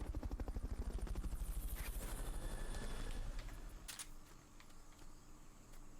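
Fulton recovery helicopter in the video game Metal Gear Solid: Peace Walker, its rotor chopping in a fast, loud, steady pulse that fades out partway through, followed by a short sharp mechanical burst.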